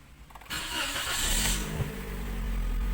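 A 2020 Toyota Vios engine starting after an engine-bay wash, the crank catching at once into a steady, close idle that holds evenly to the end.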